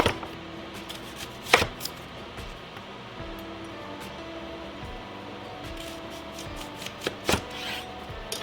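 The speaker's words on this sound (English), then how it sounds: "I don't need a fine dice, I'm just going to chop it" Knife chopping ingredients for a wild rice and cranberry stuffing on a board, with a few sharp, close chops in short bursts separated by a quieter kitchen background.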